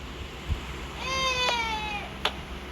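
A cat gives one clear, drawn-out meow lasting about a second, fairly close, with a few faint knocks and rustles around it in an otherwise quiet room.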